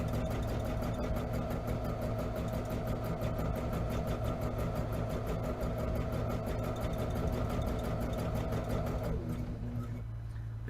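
A domestic sewing machine running steadily during free motion appliqué stitching of letters onto a sewing machine cover, a continuous motor hum with a fast needle rhythm throughout, slowing and stopping near the end.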